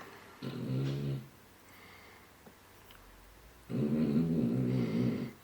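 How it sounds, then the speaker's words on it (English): A dog snores in two long, rasping bursts, each about a second or more, separated by a quieter pause. The sound is close by and moderately loud, with no talking. "Oh my god, my dog's snoring a lot."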